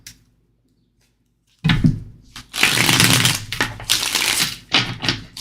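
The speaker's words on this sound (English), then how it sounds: "Shuffling. Let's clear them really good." A deck of tarot cards is shuffled close by after a quiet start, giving bursts of riffling and slapping card sounds that come in rapid clusters and stop briefly between them.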